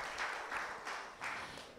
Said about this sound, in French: Nous vous remercions, nous vous applaudissons.